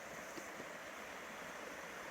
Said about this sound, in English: The Davidson River, everybody.